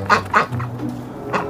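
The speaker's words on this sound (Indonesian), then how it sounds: "Wow, bebek putih cantik sekali." A white duck quacks twice in quick succession near the start, then gives one more quack near the end, close and fairly loud over a low steady hum.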